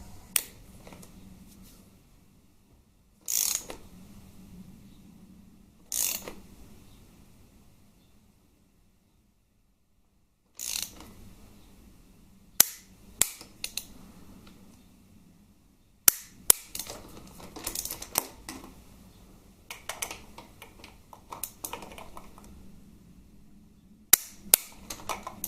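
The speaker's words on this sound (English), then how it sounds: "And feed it onto the back one and torque that one up as well." A torque wrench clicks sharply while tightening bolts on a Harley-Davidson Twin Cam 88 engine during a rebuild. Isolated snaps and short bursts of clicks are separated by quiet gaps in a still workshop.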